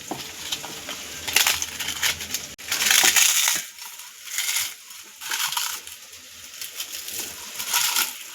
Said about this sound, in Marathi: आता जे आपण हे पापड भाजून घेतले होते ते आपण कुस करून घेऊया